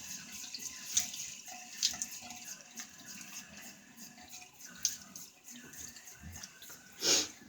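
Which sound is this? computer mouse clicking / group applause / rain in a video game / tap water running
tap water running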